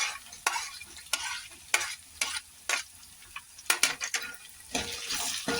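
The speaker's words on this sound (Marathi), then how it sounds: "हा कांदा पण परतून घ्यायचा" Chopped onion and green chillies sautéing for masala bhat, a soft continuous sizzle under repeated scraping and clattering strokes of a spoon stirring the pan, close and unvoiced.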